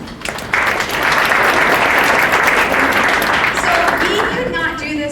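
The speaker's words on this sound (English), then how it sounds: "Please give yourselves a round of applause." A meetup audience at the UC Digital Futures Building in Cincinnati breaks into loud, dense applause after a brief opening, clapping steadily, then thinning out as a voice begins to speak near the end.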